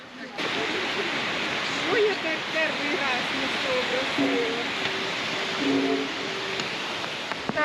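A river and stream in the Carpathians flow steadily near a concrete dam crossing, a dense continuous rush of water filling the whole span.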